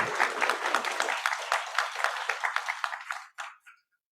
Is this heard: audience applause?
yes